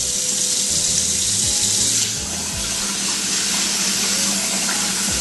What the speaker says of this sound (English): And you want to rinse it until the water becomes clear, like so.